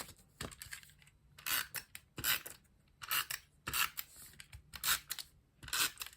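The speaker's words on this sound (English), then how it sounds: "So just trim that down to make sure it fitted." Card stock for a handmade card is trimmed with crisp, rasping cutting strokes, about seven or eight short bursts in an uneven rhythm, close up and quiet, with no talk.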